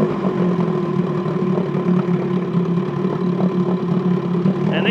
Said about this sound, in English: that's a fine running motor.